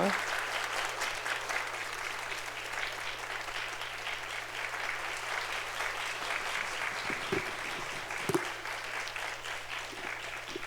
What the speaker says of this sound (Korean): 우리 힘찬 박수로 축하해 주시기 바랍니다.